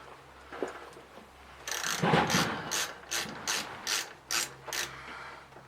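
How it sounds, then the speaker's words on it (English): A ratchet tightening an Allen bolt on a Ducati 959 Panigale motorcycle, a rapid run of clicks followed by about seven separate ratcheting strokes, close and crisp. "As soon as you get your Allen bolt through, start tightening it down."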